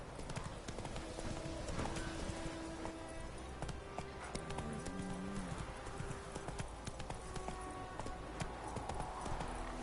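Roach the horse trotting in The Witcher 3, a dense, rhythmic clip-clop of hooves that stays steady and continuous against a busy game background.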